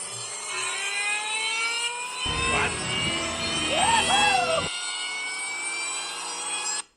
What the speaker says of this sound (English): So we're gonna go listen to this blower again.